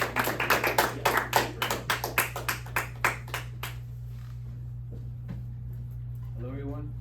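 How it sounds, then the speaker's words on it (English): A small audience at a high school senior presentation gives a brief round of applause, a handful of sharp distinct claps in quick rhythm that thin out and fade within a few seconds, over a steady electrical hum, before a voice starts. "let's give him a round of applause"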